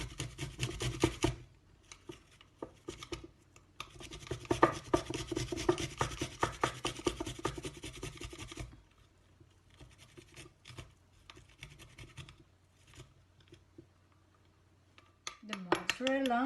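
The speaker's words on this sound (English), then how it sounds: "But I'm going to be grating it in this small grater." Mozzarella cheese scraped across a small hand grater for garlic bread, giving quiet, rapid rasping strokes in a steady rhythm that pause and then return faintly, with a brief voice at the end.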